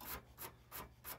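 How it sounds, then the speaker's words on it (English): A wire brush scrubs a corroded wire from a Honeywell Home CT410B electric thermostat in four quick, even, faint back-and-forth rasping strokes, with no talking. "you're just gonna give this a little scrub"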